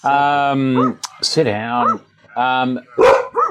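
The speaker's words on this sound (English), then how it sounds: "we've got the local guard dogs" Farm guard dogs bark and whine loudly and up close in several short bursts, with a person speaking briefly between them.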